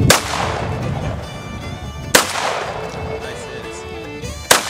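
Gunshots from a firearm fired at an outdoor shooting session, two sharp loud reports about two seconds apart with a third at the very end, over steady background noise.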